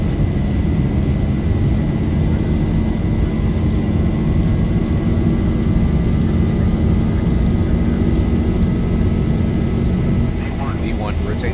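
Boeing 737-800 jet engines in X-Plane 11 roar at takeoff power, a loud, steady, unbroken rumble with a thin whine above it, while a voice talks over it.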